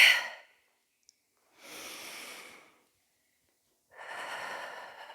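Heavy breathing during an upper-body Pilates workout, with three forceful, breathy exhales spaced a couple of seconds apart and close to the microphone, separated by silence.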